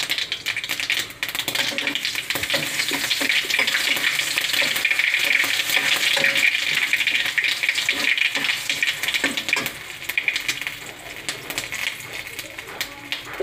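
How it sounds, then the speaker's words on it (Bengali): Mustard seeds and chilies temper in hot oil with a busy, crackling sizzle and rapid popping, fairly loud and continuous, with faint speech underneath at times. "সর্ষে ফোড়ন দিলাম। লঙ্কা ফোড়ন দিলাম।"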